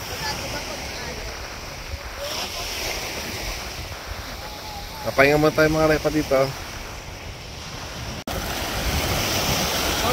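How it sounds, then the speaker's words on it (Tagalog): Steady roar of ocean surf at Virginia Beach with wind buffeting the microphone, a person speaking briefly over the crashing waves. "Ang lakas ng alon."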